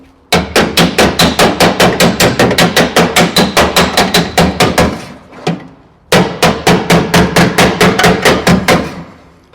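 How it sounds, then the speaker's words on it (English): Rapid bursts of sharp metallic hammer blows on a dolly smoothing MGB car body panel metal, loud and close, a long run of strikes, a brief pause, then another steady run. "We're going to give that another hammer and dolly to get that even more smooth."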